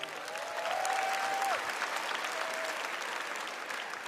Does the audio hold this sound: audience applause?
yes